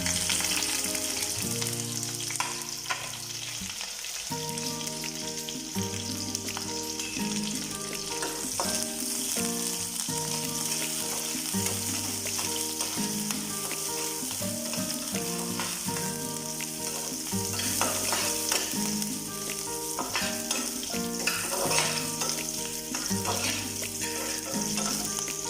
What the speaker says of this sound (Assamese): তেল গৰম হৈ অহাত কাটি থোৱা পিঁয়াজ তেজপাত আৰু জ্বলা দি দিছোঁ